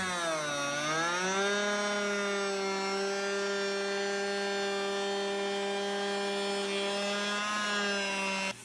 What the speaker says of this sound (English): Then we go back to the router table. This time we're going to put in a raised panel cutter.